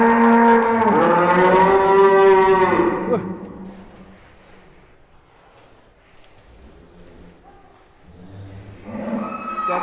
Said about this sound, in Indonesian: Dan kita akan keluarkan ini sapi yang hampir mirip sama Wisanggeni.